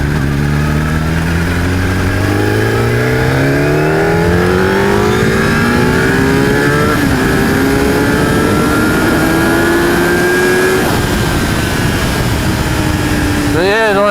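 A vehicle creeps slowly over gravel on a rural track, its engine humming and rising in pitch through long gradual revs, loud and close, with the crunch of stones under the tyres mixed into the steady drone.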